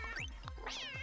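A cartoon cat meows in the spaceship co-op game Lovers in a Dangerous Spacetime, a few short rising and falling mews, clear and close with no talk over them.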